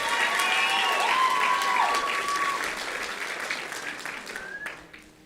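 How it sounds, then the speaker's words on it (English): Audience applause for a group of 7 to 9-year-old girls at a youth ambassadors competition, a dense indoor round of clapping that gradually fades out over several seconds. "one more round of applause for our 7 to 9-year-old girls"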